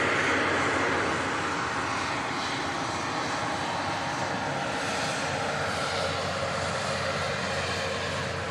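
A Qatar Airways airliner at Manchester Airport produces a broad, steady engine roar that is loud at the outset and holds as a continuous rushing drone, alone without voices.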